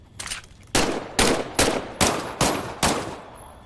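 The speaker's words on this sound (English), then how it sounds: "why don't you test fire your weapon?" A weapon is test fired in the VR shooter Medal of Honor: Above and Beyond, with about six sharp, loud gunshots in an irregular sequence, each decaying quickly into a short echo.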